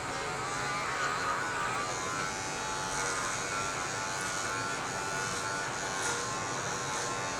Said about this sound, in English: I'm going to shave her size down with a number 4 right now